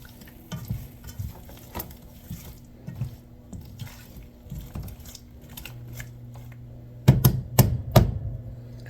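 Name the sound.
chicken browning and sizzling in a pan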